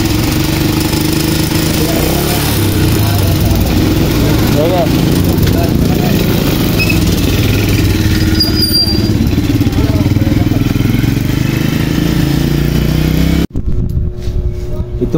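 A turbocharged diesel engine with an intercooler runs at a steady, loud idle close by for most of the clip, its low rumble continuous before it cuts off near the end.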